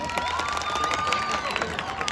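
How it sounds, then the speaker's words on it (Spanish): A crowd at a bullfight festival in Teocuitatlán de Corona, Jalisco, applauds and cheers, with clapping, whoops and shouts blending into a lively roar, and a high whistle or call rising briefly above it. "El aplauso por los que estén por beso."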